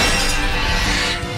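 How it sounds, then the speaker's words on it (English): An enemy's shield shattering in the role-playing game Octopath Traveler, a loud, bright glassy burst of breaking shards that rings out for about a second before tailing off. "it shatters and the foe is stunned for the rest of this turn and the next"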